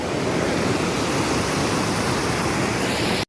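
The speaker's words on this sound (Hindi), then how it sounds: "यहाँ से आ रहा है मेन पानी सबसे तेज़।" Waterfall water rushes loudly and steadily at a hidden dargah in Rajasthan, a dense continuous roar close by that fills the whole stretch with no break until a sudden cut at the very end.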